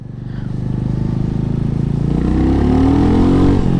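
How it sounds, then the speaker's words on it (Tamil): A Royal Enfield motorcycle's engine and exhaust while riding: a steady, close, low throbbing drone that builds slightly in pitch and loudness as the revs climb. "ஒரு ஃபோர் தௌசண்ட் ஆர்பிஎம் மேலே நல்ல எக்ஸாஸ்ட் நோட் க்ரியேட் பண்ணுது"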